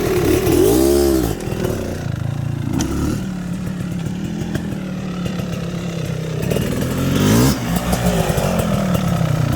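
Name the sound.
GasGas 500 BRC motorcycle chugging at low RPM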